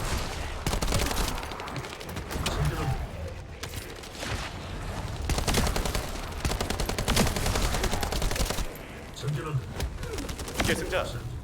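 Dense video game gunfire crackles in rapid, near-continuous bursts over more than ten seconds, loud and close, with a voice talking over it.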